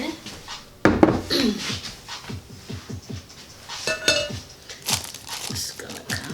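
Cheesecake brownie batter is spread evenly across a pan, giving soft scraping and dabbing strokes in an irregular rhythm with a few sharper knocks of the utensil against the pan. A person talks intermittently over the close handling noise.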